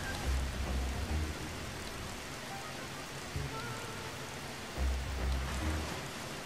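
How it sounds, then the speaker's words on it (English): Rain falling in The Bee Movie Game, a steady wash of raindrops across the whole clip with low rumbling swells that rise and fall, loud and close with no voices. "Oh no, not the rain!"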